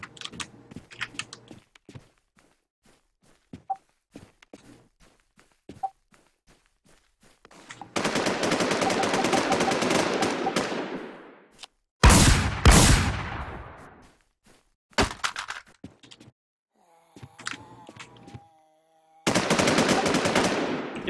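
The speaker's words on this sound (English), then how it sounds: "Yo, I keep getting shot while I got spawn protection." Gunfire hitting a player in a first-person shooter, with long sustained automatic bursts and short staccato volleys separated by quiet gaps and scattered faint clicks.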